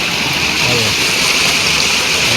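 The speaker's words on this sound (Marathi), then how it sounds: "तुमका किती नदी भरतात ती आमची पाणी बघा" Loud, steady rush of a river flowing close by in a Konkan village, a continuous hiss with no breaks, with a faint voice buried underneath.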